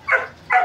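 A pet dog gives two short, close barks with a whiny, whimpering edge, spaced about half a second apart and loud against a quiet background.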